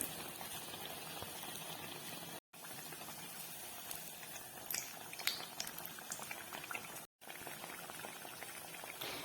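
Kerala-style banana fritters (pazhampori) frying in hot oil, giving a steady, dense bubbling sizzle that stays close and loud throughout, broken by two very short gaps, with no voices.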